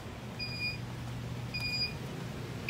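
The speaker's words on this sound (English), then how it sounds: "you're gonna hear my DVR beep." A Zosi security DVR beeps when its motion detection triggers, sounding two short bursts of high electronic beeps about a second apart over a faint room hum, clear but not loud.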